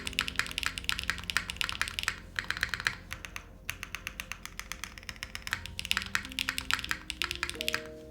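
Steady bursts of typing on an ORI CLS-3 plateless mechanical keyboard build fitted with O-rings, close and fairly loud, with short pauses between runs of rapid key clacks.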